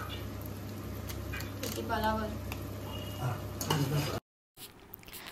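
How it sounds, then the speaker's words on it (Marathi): Everest masala spice mix frying in a pan for a Marathi-style mutton gravy, a soft steady sizzle with occasional stirring scrapes, a person talking over it, then a brief cut to silence. "आता मसाल्याला पण मस्त फ्राय होऊन जायचंय"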